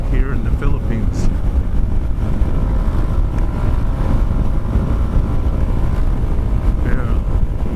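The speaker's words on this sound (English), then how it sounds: "the wind is hitting me pretty hard" Heavy wind buffets the microphone while riding a Kymco Xciting 400i scooter on a group ride in the Philippines, a constant loud low roar with faint engine hum and brief higher whines from passing traffic, no talk.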